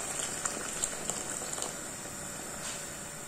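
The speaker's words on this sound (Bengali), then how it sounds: "আমি এখানে সামান্য একটু ফুটান্ত গরম পানি অ্যাড করে দিলাম।" Boiling hot water simmering in a pot of vegetable curry gives a steady, moderately quiet bubbling hiss with small repeated pops and splutters throughout.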